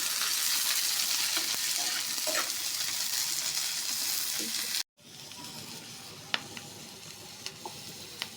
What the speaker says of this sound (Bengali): পেঁয়াজ, কাঁচামরিচ এটা একটু ভেজে নিই